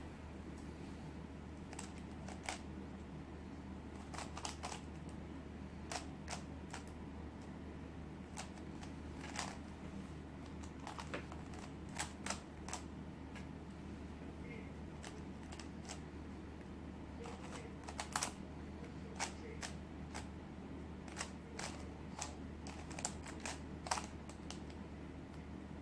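A Skewb puzzle cube clicks and clacks as it is turned quickly during a solve, irregular bursts of light plastic snaps scattered over a faint steady background hum.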